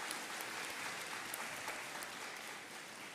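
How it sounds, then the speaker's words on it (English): A graduation audience at Brown Deer High School gives a sustained round of applause for school staff, a broad, even roar of many hands clapping at a distance, fairly faint and continuous throughout. "So class of 22, give our staff a great round of applause."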